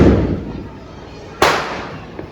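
Diwali firecrackers burst during a street celebration in Surat: a loud, crackling blast fades at the start, then one sharp, close bang rings out and decays into a faint pop.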